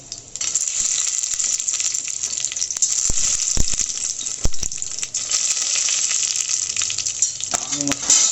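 Black pepper and star anise fry in hot oil for vegetable pulao, giving a loud, continuous hiss and sizzle with occasional sharp crackles and light stirring clinks throughout.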